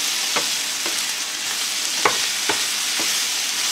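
Stir-frying in a home kitchen pan: a steady broadband sizzle runs throughout, broken by several sharp scraping clacks of the utensil against the pan at irregular intervals, close and fairly loud, with no talking.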